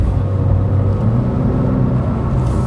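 A 2025 Porsche 911 Carrera engine hums and revs in a short, smooth, fairly close burst, with no talking over it.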